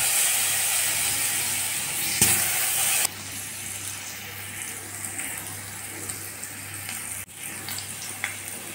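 Potatoes frying in oil in a pan for a Bengali fish curry: a steady, close sizzle and crackle that is louder for the first few seconds, then settles into a softer continuous fry with no voices.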